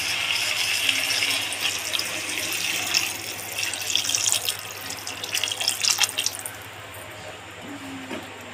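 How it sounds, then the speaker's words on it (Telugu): Water pours into a cooking pot of drumstick curry, running and splashing steadily from close by, with a rushing, trickling stream that thins out and stops near the end. "1 చెంబు వాటర్ పోసుకుందాం."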